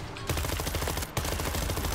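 Rapid automatic gunfire in the zombie shooter World War Z, a loud continuous burst of shots that breaks off for an instant and resumes, with no talk over it.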